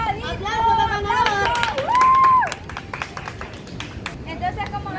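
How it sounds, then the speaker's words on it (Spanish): A group of children and young people applauds after a balloon game, quick scattered claps that fade from a lively burst into thinner patter, mixed with singing-like voices and lively chatter. "¡Aplausos para Manolo!"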